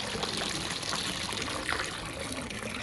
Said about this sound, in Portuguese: Vou despejar a água aqui, ó.